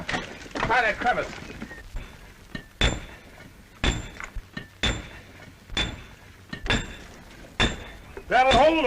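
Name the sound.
hammer striking spike into rock crevice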